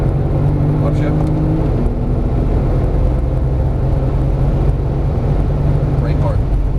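A Porsche Turbo S engine drones loudly and continuously under full throttle, a dense, steady roar with a shifting tone, while a voice gives driving instructions over it.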